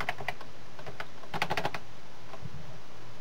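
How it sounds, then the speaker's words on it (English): Keys on a computer keyboard click in short quick bursts while typing on an Ubuntu system, close and crisp with pauses between clusters of keystrokes. "now I can type in English"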